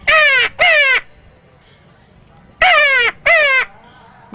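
A man imitates the call of a mountain crow with his voice, giving four loud, close, harsh caws in two pairs separated by a short pause.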